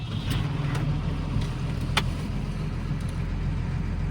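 A New Holland T7 tractor's engine runs with a steady, close, deep rumble and a constant drone, with only small rises in level and no clear start-up burst.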